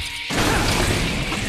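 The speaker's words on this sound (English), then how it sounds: "Oh, it smashed the battery out." A crunchy smash in the LEGO Jurassic World video game as a battery is knocked out, a sudden loud crash after a brief quiet moment, followed by a dense rattling burst of broken pieces.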